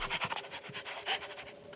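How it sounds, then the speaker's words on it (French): A cartoon dog pants in quick, rhythmic, close breaths, a steady airy huffing with no talking over it. "Plus un geste, les Dalton, ou je lâche le chien."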